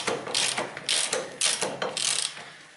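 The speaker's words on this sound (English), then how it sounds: "I can insert my hand in here, and then I can open this bolt using this my tool" A ratchet hand tool loosens a bolt on a car driveshaft, giving bursts of quick, close clicking pawl strokes in an irregular rhythm with brief pauses between swings.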